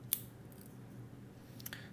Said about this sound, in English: the scissors are so sharp that you can cut it like this